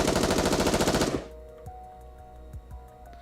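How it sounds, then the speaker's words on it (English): Machine-gun fire in the video game Goddess of Victory: NIKKE: a loud, rapid burst lasting about a second, then a sudden cut to quieter game ambience with a few soft thuds. "but is promptly assaulted by a hail gunfire to its core."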